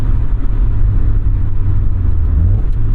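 A 1992 Mazda MX-5 Miata (NA) engine drones loudly and close during a heel-toe downshift, a steady low rumble with a slight rise in revs near the end.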